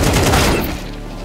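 Rapid burst of gunfire in Counter-Strike 2, loud and close, a dense rattling volley that fades out over about a second.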